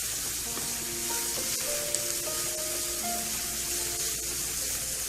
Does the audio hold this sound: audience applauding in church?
no